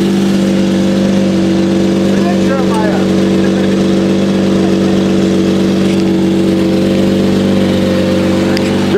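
A Lamborghini Murcielago LP640 engine idles loud and close with a steady, deep throbbing note, holding constant with little revving or tire squeal, while a voice speaks faintly over it.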